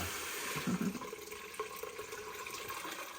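Water pours steadily from a measuring cup over a small fork into a multicooker pot for vegan split pea soup, a continuous close splashing trickle with no talk.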